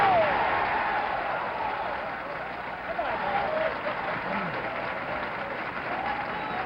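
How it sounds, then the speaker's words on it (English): A bowling crowd at the 1969 PBA San Jose Open breaks into sustained applause for an 11th strike in a row, a dense even wash of clapping heard on an old, muffled broadcast recording, with a commentator speaking over it. "the crowd really comes alive because they know that now this is it"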